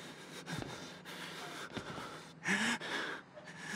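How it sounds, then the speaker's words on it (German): Heavy, ragged breathing from a character in the horror video game Outlast: a few close gasps and snorting breaths at irregular intervals over low game ambience, with one sharper wheezing inhale partway through and no talk. "Jetzt hör doch mal auf, so zu atmen"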